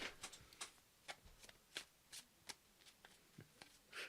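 New, unsleeved playing cards shuffled by hand in a quick series of crisp, papery riffling bursts and taps, fairly close and alone with no talk.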